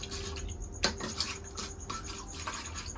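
Fish being washed by hand in a metal pot, steady wet rubbing and scrubbing with repeated sharp clinks of metal and utensils, close up, with no voices.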